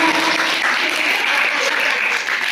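Dense, steady applause from a talk show audience, close and loud for the whole short stretch with no pauses.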